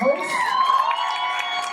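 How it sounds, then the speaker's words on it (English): Audience at a Big Brother meet-and-greet in a New York venue cheering and whooping for the host, a brief dense burst of crowd voices and shouts. "one more time, big round of applause for Maddie, our host"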